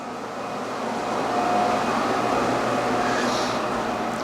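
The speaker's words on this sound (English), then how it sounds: "I'm going to run a cycle in the dishwasher to make sure it runs through" A dishwasher running its cycle gives a steady mechanical hum with a faint whine, rising slightly and holding even throughout.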